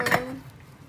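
Metal lid set onto a cooking pot, one brief clink that rings out and fades within a second, close and clear.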